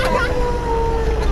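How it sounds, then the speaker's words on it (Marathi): A mock drill siren wails steadily in a sustained tone, moderately loud over background talk and outdoor noise. "अजून एक सायरन आपला वाजलेला आहे"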